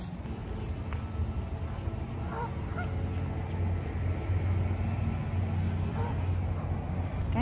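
Canada geese in a flock honk repeatedly at a distance along an American roadside, set against steady low outdoor rumble and wind, with people talking over the calls.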